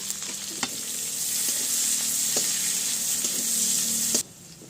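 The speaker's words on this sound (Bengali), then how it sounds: "পেঁয়াজ রসুনটা ভাজা ভাজা হয়ে গেছে" Crushed garlic, chopped onion and green chilli fry in a pan with a dried chilli tempering, giving a loud, steady close sizzle with several sharp stirring scrapes before the sound cuts off near the end.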